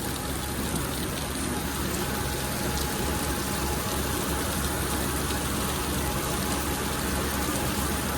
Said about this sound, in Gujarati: બહુ સરસ વરસાદ પડ્યો